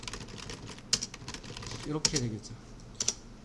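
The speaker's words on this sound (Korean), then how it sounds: "여튼 타이핑 해보시면은" Typing on a computer keyboard: scattered sharp key clicks, a few louder taps standing out, close by under someone speaking softly.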